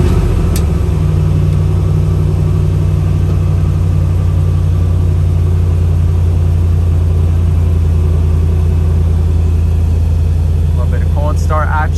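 A Lexus GX470 V8 with a muffler-delete exhaust idles after a cold start, giving a deep, steady, loud rumble that holds unbroken for the whole stretch.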